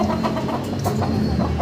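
Chickens at a fancy poultry farm that keeps large ornamental breeds such as white Silkies cluck in short, close, rapid bursts over a steady barnyard hiss.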